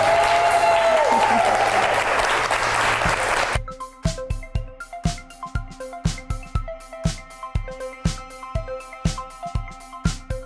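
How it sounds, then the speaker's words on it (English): A studio audience on a wellness live show applauds the chefs in a dense, loud burst of clapping, which gives way to rhythmic music with a steady beat. "let's give our chefs another round of applause"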